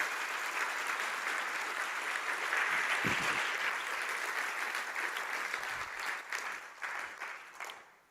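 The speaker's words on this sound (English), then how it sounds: "Please give them one more massive round of applause." Sustained applause from a large audience, steady and loud, thinning slightly toward the end.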